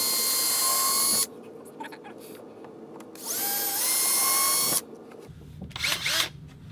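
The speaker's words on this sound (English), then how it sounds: "We're then going to drill the pilot holes for the bolts to go into the beam." A power drill bores pilot holes into a ceiling beam for the bolts of a tilting, swivelling flat-TV ceiling mount: a steady high whine runs in three separate bursts, with quiet gaps between them.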